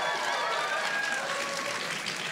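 A steady wash of applause from a crowd, even and sustained throughout.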